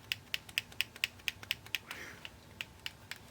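A faulty right shoulder button on an Xbox 360 controller clicks about a dozen times in a steady, quick rhythm. The sharp plastic clicks are close and fairly quiet, with no talking over them.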